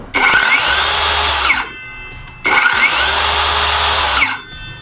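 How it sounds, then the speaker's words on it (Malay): Akaido 165 mm cordless brushless circular saw spinning up with a soft start, running free, then winding down; two loud, steady whining bursts separated by a short pause, with no one talking. "Tapi yang interestingnya dia macam ada soft start"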